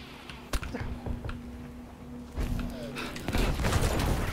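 A hand grenade thrown in the video game Battlefield V, its blast landing among ongoing in-game gunfire, with a sharp crack early on and dense rumbling combat noise building toward the end.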